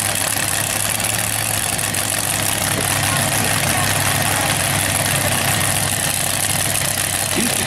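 A modified tractor-pull machine with a Chevy engine idles at a county fair tractor pull, a steady, loud low rumble with constant vibration held throughout.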